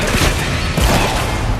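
Fortnite pumpkin launcher fired in a match, a dense run of loud booming shots blending into busy game noise across the whole moment.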